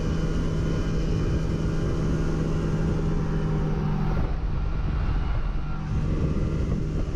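An ultralight aircraft engine drones loudly and continuously in flight over a backyard, a steady close rumble with a constant tone that barely changes throughout.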